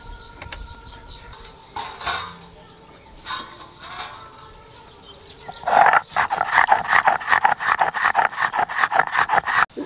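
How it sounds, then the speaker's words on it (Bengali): Poppy seeds are ground into a paste by hand: quieter scraping and knocks at first, then from about the sixth second a loud, steady run of rhythmic rasping strokes close by, with no talking. "পোস্তটা বেটে নেব।"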